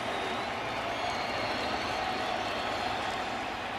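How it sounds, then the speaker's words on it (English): Baseball stadium crowd at a Giants at Marlins game in Miami, top of the ninth with a two-strike count, a steady dense roar of cheering and murmuring fans filling the ballpark, continuous and fairly loud with no let-up. "And listen to this crowd get into it"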